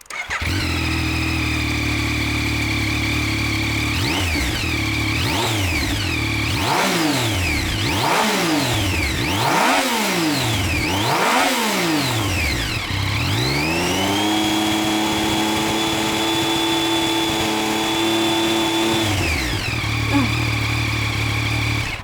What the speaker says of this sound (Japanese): ちょっとやっぱり3気筒だなっていう感じのヒュルヒュル音が聞こえてきますね